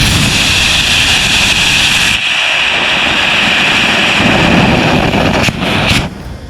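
A mini rocket motor fires statically on a thrust stand. It makes a loud, continuous roaring hiss that holds steady for several seconds, then cuts off and sputters near the end.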